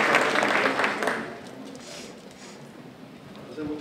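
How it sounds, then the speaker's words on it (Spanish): Audience applause for the participants at a Costa Rican vice-presidential candidates' forum in the 2018 elections; a full burst of clapping at the start that fades within a couple of seconds, leaving a quieter room. "Un aplauso a todos los participantes."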